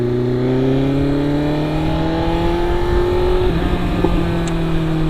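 A motorbike engine revs at the start of a ride from Mumbai to Shirdi, its tone climbing smoothly and steadily, dipping briefly midway, then holding loud and close.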